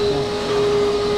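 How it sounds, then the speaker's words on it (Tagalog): A vacuum cleaner runs inside a car interior, a loud continuous motor whine with a steady tonal hum, heard close up and alone. "binabacuum na ni kuya"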